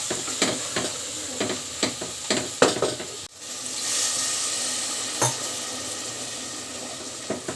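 Mutton curry masala with chili powder and turmeric frying in a pan, a steady close sizzle broken by sharp stirring scrapes and clanks in the first half, then a smoother continuous hiss.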